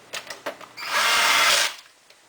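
Screws driven into a PlayStation 3 case bottom during reassembly, with a few light taps followed by a loud, close whirring power-driver burst of about a second that then stops.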